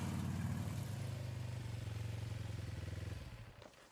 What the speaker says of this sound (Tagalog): Pinuntahan ko ang nakaprada kong motor at sinakyan ko yon.